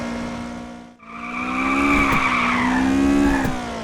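A race car in a video game tears along the Usui Pass mountain road, its engine droning loud and steady, dipping briefly and then swelling again with tire squeal through the corners.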